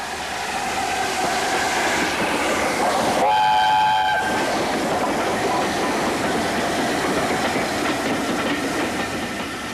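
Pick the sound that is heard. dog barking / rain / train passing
train passing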